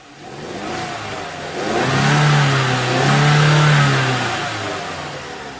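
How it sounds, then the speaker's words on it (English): A Genesis G70 2.0T turbo engine revs under throttle, rising from a steady hum into a loud sustained rev that holds for a couple of seconds, then eases back slightly, heard close with no voices. "But if I'm just gonna play around with my throttle"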